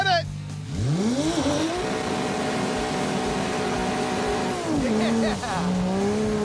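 A 1968 Dodge Charger with a 440ci V-8 sliding into oversteer, engine revving up in a rising howl that holds steady, then dips and climbs again as the tires scrub, close and loud, with a brief spoken word.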